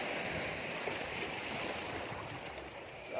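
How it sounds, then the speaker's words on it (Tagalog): Big ocean waves on a shore, a dense, steady wash of surf noise throughout, fairly close and without a break. "Ang laki nga lang po ng alon, no?"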